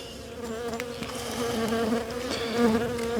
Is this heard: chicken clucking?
no